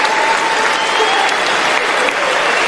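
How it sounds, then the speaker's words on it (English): Stadium crowd at a Commonwealth Games athletics semi-final, a steady wash of applause and cheering that holds loud and dense throughout, with no single voice standing out. "There's a bit of crowd noise going on"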